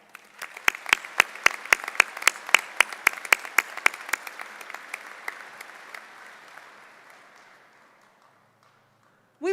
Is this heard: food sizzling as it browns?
no